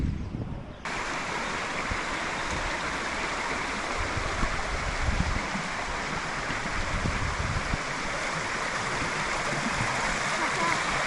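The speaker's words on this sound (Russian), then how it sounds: "Это что, весь водопад?" A waterfall on a coastal hiking trail gives off a steady, loud, broad rushing roar that fills the whole stretch, with a brief quieter moment at the very start.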